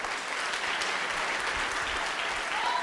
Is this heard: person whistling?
no